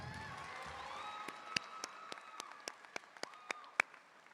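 A few scattered, distinct handclaps ring out at a high school commencement ceremony, spaced irregularly over faint sustained crowd noise and voices, as an audience's applause trails off.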